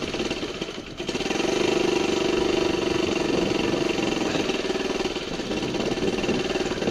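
Tractor engine idling on the hand throttle, a steady, close mechanical drone that holds even for several seconds after a brief dip near the start.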